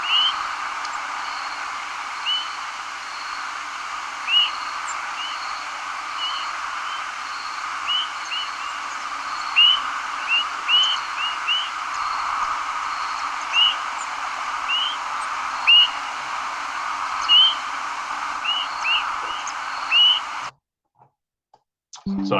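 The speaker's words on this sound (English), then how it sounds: "Those beep, beep, those are Swainson's thrushes, and they're just a massive movement coming over my house." Migrating Swainson's thrushes giving night flight calls over a house, with many short, high, beep-like notes repeating irregularly over a steady hiss. The noise drops away near the end.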